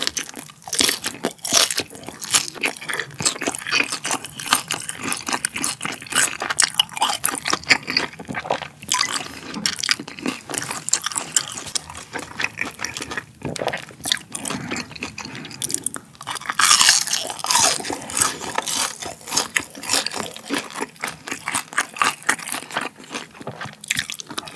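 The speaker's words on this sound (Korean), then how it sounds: "이게 쫄깃쫄깃한데 은근히 바삭하고 새우살이 은근히 실하네" Crispy fried chili shrimp, eaten alongside malatang and guobaorou, is bitten and chewed up close in a steady run of loud crunches and wet chewing sounds, with no talking.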